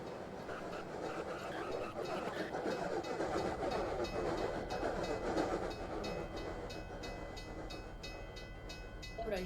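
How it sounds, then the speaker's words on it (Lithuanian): A train passes at some distance, with rhythmic clickety-clack of wheels over rail joints and a rumbling roll heard from a taxi during a drive. "O, traukinukas."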